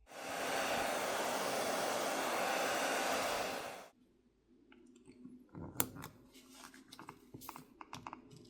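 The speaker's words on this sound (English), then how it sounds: "I prefer to use a hairdryer since there's less of a chance of damaging any of the components inside by overheating them." A hair dryer blows steadily for about four seconds, heating the adhesive on the back plate of a OnePlus Nord CE5 5G phone, then cuts off, followed by faint clicks and tapping.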